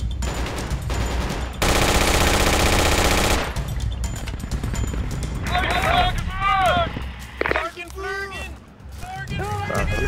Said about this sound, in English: Machine gunner! Down the way,